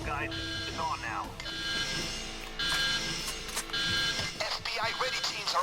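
An electronic burglar alarm in the PAYDAY 2 heist game blares continuously in repeating bursts under dense talk, game music and action noise.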